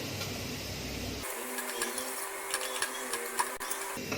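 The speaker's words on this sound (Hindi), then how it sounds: "जीरा क्रैकल होना शुरू हो गया है" Cumin seeds crackle in hot oil with a pinch of asafoetida, the start of an amaranth saag: a sudden steady sizzle sets in, scattered with small pops and crackles.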